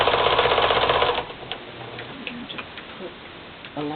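A sewing machine runs steadily for about a second, stitching braid trim onto the outside of a fabric cornucopia, then stops, leaving quiet handling sounds and a short burst near the end.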